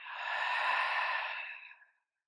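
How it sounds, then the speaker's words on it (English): A big open-mouth exhale during a yin yoga session, one long breathy whoosh that swells and then fades out into silence, close and alone. "taking a nice big open mouth exhale"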